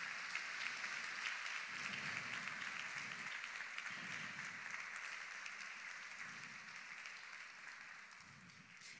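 A church congregation claps steadily throughout as an offering of praise, a dense, sustained wash of many hands at moderate distance that tapers slightly toward the end.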